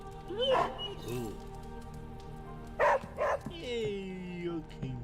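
A dog in Marvel's Midnight Suns lets out a few short barks and yips when petted, heard in a couple of quick bursts over a soft rain-like background, with a voice speaking briefly near the start.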